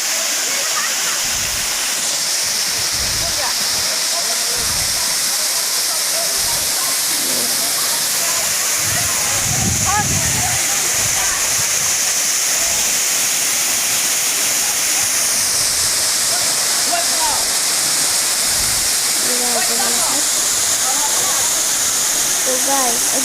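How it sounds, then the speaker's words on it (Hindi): Rushing water of the Bheluguat waterfall in Assam roars loud and unbroken throughout, with a voice talking over the constant torrent. "तो चलिए, ये रहा भेलूघाट का वाटरफॉल।"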